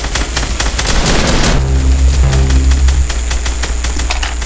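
Rapid gunfire in the Roblox game Weaponry: quick repeated shots in a dense burst at the start, then a steady mechanical hum with fainter pops.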